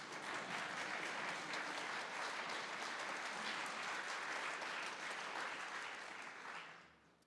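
Steady, dense audience applause at a talk on Jewish mythology fills the room at full strength for about six seconds, then fades out near the end; no voices stand out.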